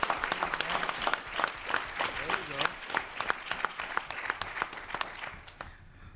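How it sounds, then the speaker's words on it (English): An audience at a civic engagement professional development session breaks into brisk, dense applause for a speaker, a wash of many hands clapping that fades toward the end, with a voice faintly present underneath. "We gotta give that sister a round of applause."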